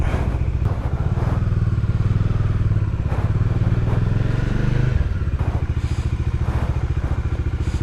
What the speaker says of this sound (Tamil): வார்ம் அப் ஆகிடுச்சு பைக்கு